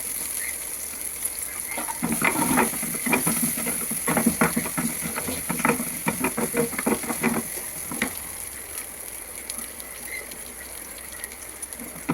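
Small shallots frying in a pan while a Kerala fish roast is made, a soft steady sizzle with bursts of stirring and scraping clatter in the middle, then quieter sizzling alone.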